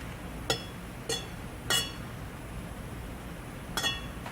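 Soy candle wax with a chunk of nectarine-scented wax is stirred in a container, giving four sharp, separate clinks of a utensil against the vessel over a quiet background.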